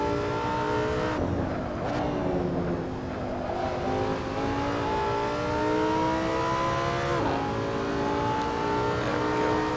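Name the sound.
Lamborghini Sesto Elemento engine revving, Assetto Corsa video game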